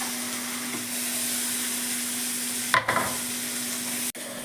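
Prawns dropped into a pan of frying onions with taro greens, giving a steady broad hiss of hot oil, a sudden burst of sizzle and clatter partway through, then an abrupt cut near the end.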